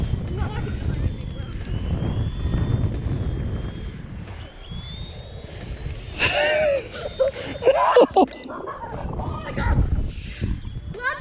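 A cheap RC Era C138 remote control helicopter flies outdoors in wind, its faint whining rotor buzz rising and falling under loud wind rumble and people talking.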